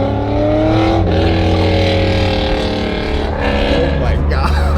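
A Chevrolet Corvette C5 with full headers and exhaust rumbles loudly up close, its engine note rising and falling through revs, with people talking over it.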